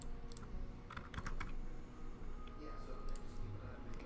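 Computer keyboard typing in quick, uneven bursts of soft clicks, faint and close, with a quiet voice in the background.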